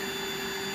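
A Rainbow SRX vacuum cleaner runs steadily with no one talking, a continuous close motor whine carrying a strong fixed tone over broadband airflow noise.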